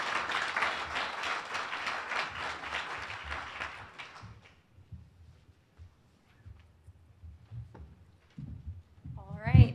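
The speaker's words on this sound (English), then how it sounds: "give them a warm welcome applause" An audience at an aviation leasing conference applauds a panel, dense clapping for about four seconds that then fades out to near silence, with a few faint sounds near the end.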